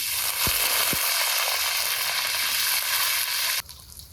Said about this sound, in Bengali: কড়াইতে সর্ষের তেলে আগে সেদ্ধ আলুগুলো ভেজে নেব।